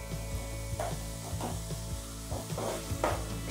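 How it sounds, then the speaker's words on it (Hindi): Masala for gatte ki sabji fries in oil in a pan, making a steady close sizzle with soft scraping and stirring strokes at a regular rhythm. No one speaks. "ये देखिए ये मसाला मेरा अच्छे से फ्राई हो रहा है."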